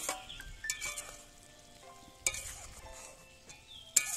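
Quiet stirring of a bean and potato vegetarian curry in a pan: faint low sizzle with a few sharp metal spatula clinks against the pan at irregular intervals.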